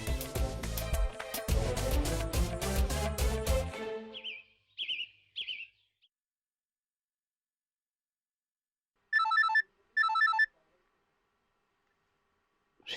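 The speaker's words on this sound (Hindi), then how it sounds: "ऋषि का फोन" A phone ringtone plays a loud, rhythmic, tonal melody for several seconds and then stops. A few soft chirping electronic tones follow after a pause, in a quiet indoor scene from a TV drama.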